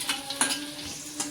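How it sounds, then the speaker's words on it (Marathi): Chopped onion sautés in a pan for a Marathi mung dal amti, a faint sizzle with a few light scrapes and stirring clinks of a spoon against the pan. "कांदा चांगला परतून घेते. कांदा लाल होईपर्यंत परतायचं चांगला."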